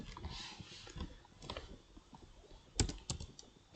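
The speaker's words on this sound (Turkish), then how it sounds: "şu tuşa basıyorum olmuyor" Computer keyboard keys are pressed by hand, giving a few scattered, soft, close clicks and taps in an otherwise quiet room.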